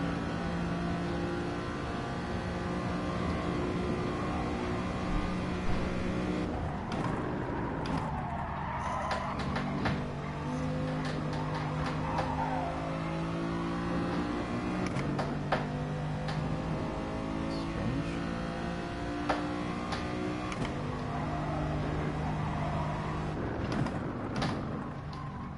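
Race car engine in the GT Sport video game, FIA GTC racing, a continuous revving drone rising and falling through gear changes and braking for corners, steady and close throughout with no talk.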